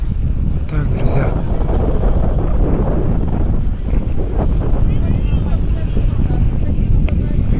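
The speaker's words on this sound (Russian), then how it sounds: "Ветер немножко." Strong wind buffets the microphone on a beach by the sea at Novorossiysk, a steady loud roar with surf underneath and no clear speech.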